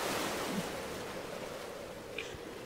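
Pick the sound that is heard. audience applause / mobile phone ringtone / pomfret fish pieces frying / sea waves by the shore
sea waves by the shore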